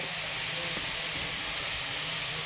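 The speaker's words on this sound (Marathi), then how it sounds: "आपला असा कांदा मी परतवायला ठेवलेला आहे आता शेगडीवरती" Chopped onion sautés in a pan on a stove for egg bhurji, producing a steady, dense hiss of sizzling oil that holds evenly throughout without talk.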